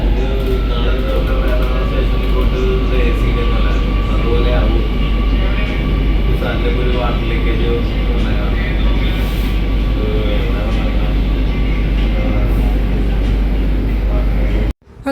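Riding the Kochi metro train in Kerala gives a loud, continuous rumble and hum from the carriage for the whole stretch, with faint chatter beneath it.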